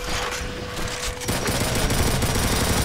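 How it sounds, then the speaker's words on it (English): Upgraded chain gun in Doom (Plutonia 2, Brutal Doom mod) firing in a rapid continuous loud burst, growing denser partway through, with no talk over it. "I got the upgraded chain gun"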